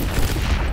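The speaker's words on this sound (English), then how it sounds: "It's going to be a pretty big explosion." A big in-game explosion in Destiny 2 rumbles as a dense, loud burst of low booming blasts and crackle, close and sustained for under a second with no voices.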